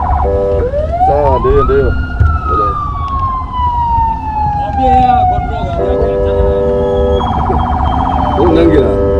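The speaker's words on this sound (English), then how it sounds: "Napenda piga siren." Police-style siren played at a live Kenyan news event during the Finance Bill presentation, a loud wailing tone sweeping up and down then switching to a rapid yelp, with people speaking over it.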